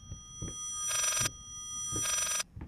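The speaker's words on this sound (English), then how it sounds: "Is that like a ring from a phone going backwards?" An eerie reversed telephone ring sounds in the Layers of Fear horror video game, with two sustained buzzing ring bursts separated by a pause, over soft low thumps and quiet ambience, without any speech.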